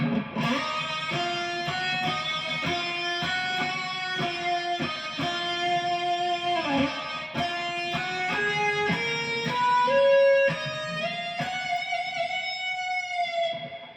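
A clean electric guitar plays a lower harmony line, a steady series of picked notes moving gradually upward, clear and close with no talking.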